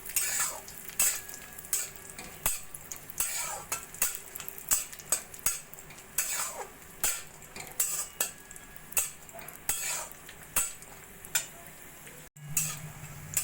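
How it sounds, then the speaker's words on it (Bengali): Cashews and raisins frying in a pan, a soft sizzle under frequent rhythmic metal scrapes and taps of a spoon stirring against the pan. "কিশমিশটা দিয়ে একটু ভেজে নিয়ে"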